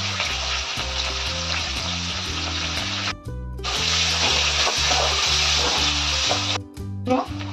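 Bay leaves, onion and green chili sizzling in hot oil in a pan, a steady bright frying hiss that drops out briefly twice, with a repeating low musical pattern playing underneath.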